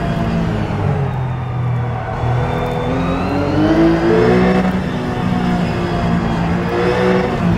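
A RUF race car in the iRacing sim revs hard and steadily throughout, its engine note rising and falling with gear changes, loud and close with no talk over it.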